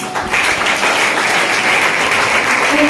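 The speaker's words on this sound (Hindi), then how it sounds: "सब लोग ताली बजाए" An audience at a business planning seminar breaks into applause, a dense burst of clapping that swells quickly and holds steady and loud for a few seconds.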